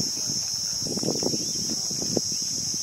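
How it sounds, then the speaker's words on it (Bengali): Crickets give a loud, steady high-pitched drone throughout, with nearby kitchen knocks and rustling beneath it. "কানে তালা ধরে যাচ্ছে ওইদিকে ঝিঝি পোকার জন্য"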